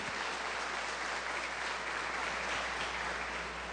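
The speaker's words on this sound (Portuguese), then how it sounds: "E dê uma forte salva de palmas para o Senhor Jesus." Sustained applause from a church congregation at a Sunday service, dense steady clapping filling the whole stretch at an even level with no voices standing out.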